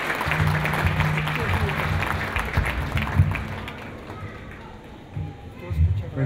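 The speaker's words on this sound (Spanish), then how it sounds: "Otro fuerte aplauso, muy cálido, para el maestro Aquino." Warm applause for marimba player maestro Aquino at a music talk event, broadband clapping throughout with low hum and voices underneath, thinning toward the end.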